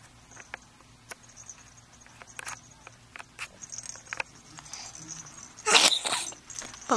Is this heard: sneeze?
yes